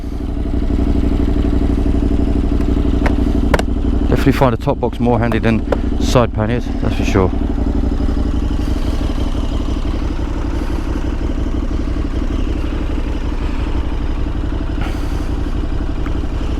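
A 2022 KTM 1290 Super Adventure S motorcycle idling close by with a deep, steady engine rumble and a brief burst of clattering revs, while someone talks over it.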